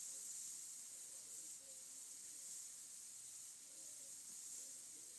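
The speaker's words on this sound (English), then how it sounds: "With the airbrush, I can come back in." An airbrush hisses steadily as it sprays paint onto a shiny Christmas ornament, a close, continuous airy spray with only slight dips in level across the few seconds.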